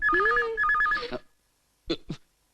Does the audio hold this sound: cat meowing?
no